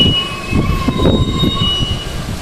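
Metro-North commuter train bound for Grand Central passing the Cold Spring station platform, a steady rumble of wheels and cars with a thin high whine over the top, close and fairly loud.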